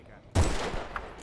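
A sudden loud burst of gunfire in the shooter game Battlefield Bad Company 2 cuts in from quiet and rings out briefly, with a fainter follow-up crack.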